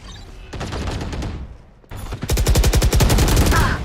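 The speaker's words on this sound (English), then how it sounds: "Placing swarm grenade." Valorant swarm grenade activation followed by a loud, rapid, rhythmic stream of popping bursts that builds in intensity after a short pause, with gunfire-like crackle throughout.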